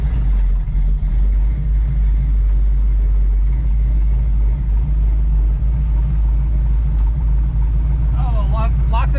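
Steady low engine drone and road rumble from a car cruising in traffic, loud and continuous, with a brief voice near the end.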